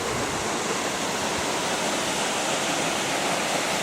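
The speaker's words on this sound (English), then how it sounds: "Just approaching a waterfall." A waterfall at a Northern Territory freshwater water hole gives a steady, dense roar that stays even and unbroken throughout, with no voices.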